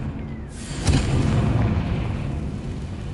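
The Confringo spell explodes in a Harry Potter video game as a sudden booming blast with a rumbling tail that fades slowly, loud and close, preceded by a brief softer sound and with no voices.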